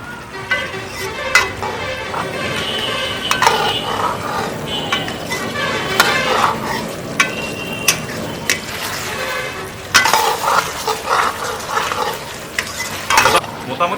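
Chicken manchurian sizzles in a pan as a cornflour and water mixture is stirred through, with steady frying hiss and repeated scrapes and clinks of a spoon against the pan, close and fairly loud.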